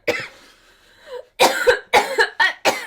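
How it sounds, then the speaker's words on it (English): A person coughs in a short burst, one cough then a quick series of harsh, close coughs with brief pauses between. "I'm gonna cough."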